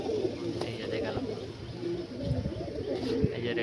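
Pigeons in a loft, including a green-ringed Andhra-line youngster, coo softly and continuously in a close, somewhat noisy enclosure, their low murmuring steady throughout.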